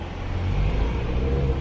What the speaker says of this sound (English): I'm driving you there in the car.